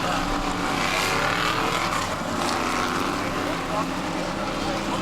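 Race cars roaring around a short oval track during a spin and crash, a continuous loud engine drone with rising and falling revs heard from a distance, overlaid by a commentator's voice.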